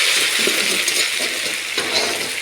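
Dal (lentils) cooking in a pot and being stirred, a thick bubbling sizzle with soft spoon scrapes and light metallic clinks, steady and close with no talk.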